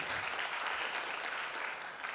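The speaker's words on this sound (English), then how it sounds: "I request all participants to give a big clap to our" Audience at an international science conference breaks into steady, dense applause that fills the hall, sustained evenly and without voices over it.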